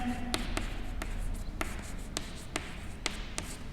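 Chalk taps and scratches against a classroom board in a quick irregular series of sharp strokes, close and clear over a low room hum, with no talking.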